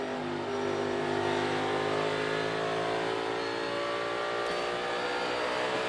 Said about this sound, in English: You hear him downshifting.